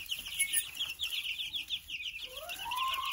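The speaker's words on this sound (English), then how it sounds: "check out our little chicks. They're 2 weeks old" Soft clucks and peeps from two-week-old chicks close by, with rustling wing flaps and a brief higher cheep near the end.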